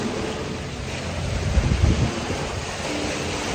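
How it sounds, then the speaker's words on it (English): Strong wind and choppy waves on Lake Como on a cold day, a steady rushing roar of gusts and water, with a slightly louder swell of surf near the middle and no voices. "It's cold and windy. Look at the waves, it's so windy."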